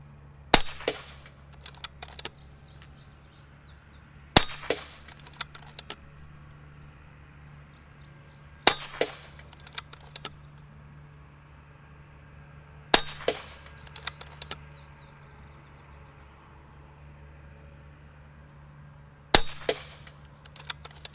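Five sharp bullpup air rifle shots, each a loud crack followed by a brief metallic rattle, spaced several seconds apart over a steady low hum.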